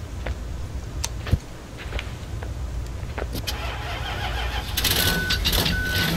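Truck driving in the physics puzzle game Human: Fall Flat, a steady engine rumble with scattered knocks and a thump, then rising mechanical clatter and repeated beeps near the end.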